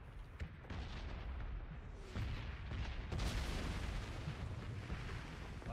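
Gunfire in a multiplayer shooter video game: dense, rapid bursts and booming shots crack over a continuous battle rumble, staying loud throughout with a sharper volley near the middle.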